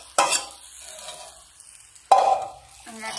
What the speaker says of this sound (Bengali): এবারে আমি যে সবজিগুলো ভেজেছিলাম সেইগুলো এসে মিশিয়ে দেবো।